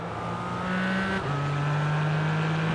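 Several GT4 race car engines at the Hungaroring in a racing video game hold steady droning tones, one pitch dropping sharply partway through as a car shifts gear, with no pauses.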